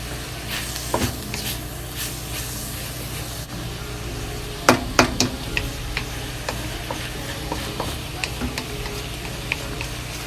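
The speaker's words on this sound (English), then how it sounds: "And slowly fry until the kale is fully cooked." Kale with ground beef fries in a pan with a continuous close sizzle. Sharp clicks and taps of a utensil against the pan break through, with a brief cluster of louder knocks midway.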